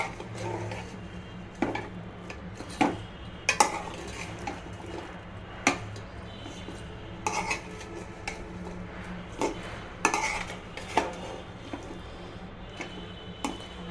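A spatula stirs radish stems and potato pieces with spices in a pan, giving irregular scraping clicks and taps against the metal over a low background hum.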